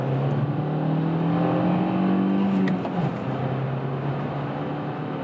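A Kia XCeed compact SUV crossover accelerates from second into third gear on a slight downhill, the engine drone climbing in pitch, dropping at the shift, then pulling steadily again, heard from inside the cabin.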